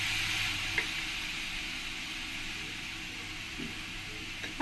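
Spiced masala for a Bengali shol fish jhal sizzles steadily in a pan as a continuous hiss, with a few faint spoon scrapes of stirring.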